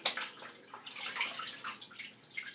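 Tap water runs steadily at a bathroom sink as a face is rinsed before a wet shave, a soft broadband splashing hiss that fluctuates with the hands, close by and with no talk.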